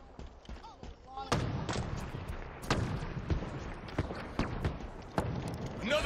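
Scattered gunshots crack in a video game set in an abandoned city, several sharp reports at irregular intervals over a rumbling background, fairly near and moderately loud.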